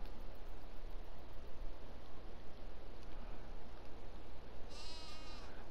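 Sheep in Farming Simulator 22 give faint, wavering bleats over a steady farm ambience, with a brighter burst near the end.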